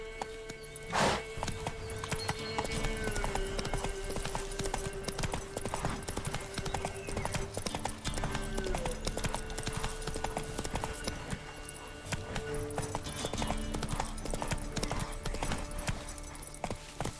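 Roach, the horse in The Witcher 3 video game, trots with steady rhythmic clip-clop hoofbeats throughout, set over continuous game ambience and music, with a brief voice calling out near the start.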